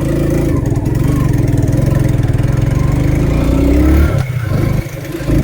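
A Suzuki Gixxer Monotone motorcycle engine runs steadily and loudly close by during a mileage test ride, with a brief dip and change in tone near the end as the revs fall.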